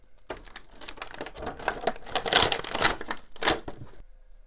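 Adhesive tape is peeled off the packaging of a Masterverse King Keldor collectible figure in a run of crackling, sticky rips, loud and close, ending abruptly in near silence.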